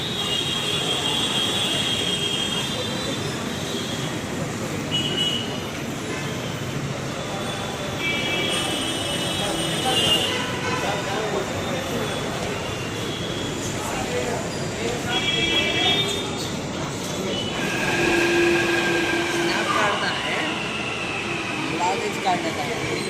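A Hyderabad metro train in motion, heard from inside: a continuous rumble with wheel squeal and rattling throughout, and people talking over it.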